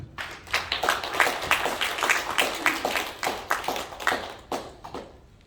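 A room full of people at a thanksgiving worship service for a senior citizens' Christian federation gives a round of applause, distinct overlapping claps rising and falling in uneven waves, fairly close, before fading out.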